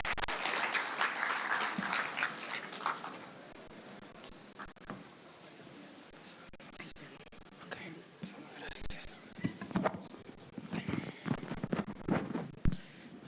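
An audience at a formal school lecture breaks into loud applause, filling the room with dense clapping that gradually fades out before a voice begins speaking.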